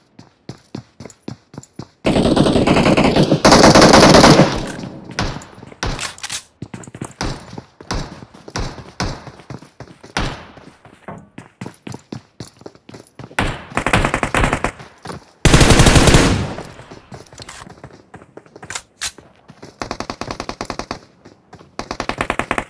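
Gunfire in the mobile battle royale game PUBG Mobile: loud automatic bursts and sharp single shots crackle in uneven clusters, with long sustained volleys and scattered quieter pops in between.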